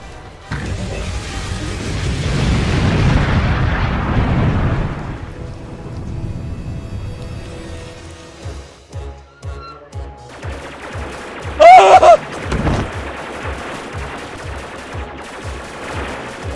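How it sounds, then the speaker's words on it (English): Laser cannon fire from a Doctor Who audio drama, The Knights of Steel: a rumbling blast-like burst early on, then a sharp, loud zap around the middle amid a thumping, rhythmic effects bed, with no talk. "Fire the laser cannon at once!"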